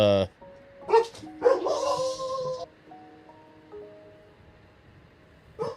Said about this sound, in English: My dog's freaking out over nothing.